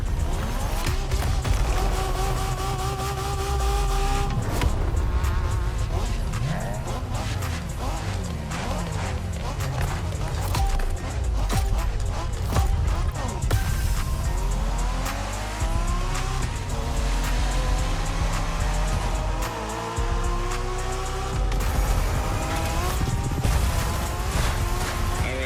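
Street racing in the video game The Crew Motorfest, set in Japan: a loud car engine revs and shifts continuously, with repeated tire squeals and skids through corners over about twenty-five seconds.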